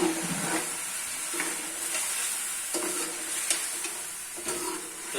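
Goat or cow trotters fry in a pot for a Pakistani sehri meal, giving a steady close sizzling hiss with repeated stirring scrapes throughout.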